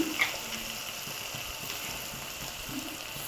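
Garam masala frying in a pan for veg pulav, a soft steady hiss and faint sizzle running evenly throughout at low level, with no talking.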